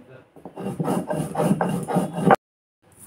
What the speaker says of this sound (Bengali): এই যে ভাজা মশলাটাকে এখন বেটে নেওয়া হচ্ছে